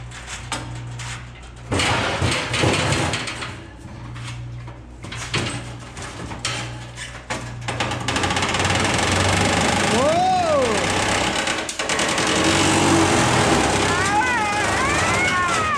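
An old, bent 120 volt electric fan motor runs with a loud steady hum and rattling vibration, its pitch sweeping up and down as it spins, while people talk nearby.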